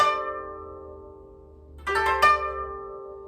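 A plucked koto string rings and fades, then a quick downward middle-finger strum from string 7 to string 10 rings out together, bright and close.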